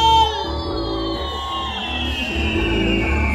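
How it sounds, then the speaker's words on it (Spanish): A large crowd at a town festival in El Pitillal shouts, whoops and cheers together loudly and continuously, with high yells on top of a dense roar of voices close by. "¡Ese grito fuerte de la gente del Pitillal!"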